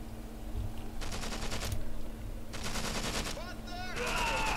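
Bursts of machine-gun fire ring out in the World War II strategy game Achtung Panzer, two long rattling volleys and further shots, fairly loud, with faint in-game voices near the end.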